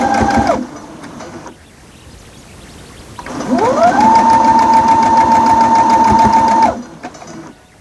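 A sewing machine stitches a Spooky Box Boo quilt. A brief burst of running is followed by a pause, then a long, steady, close-up run with a whining motor tone and a rapid needle clatter, marked by a heavy thump partway through.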